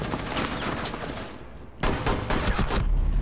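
Gunshots in a video game, rapid bursts of fire loud and close, pausing briefly before another quick volley.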